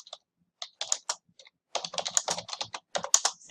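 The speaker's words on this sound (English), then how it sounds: "I like to type whatever it is that I hear" Close computer keyboard typing in short bursts, a few isolated keystrokes first and then a denser, faster flurry of clicks, with no talking.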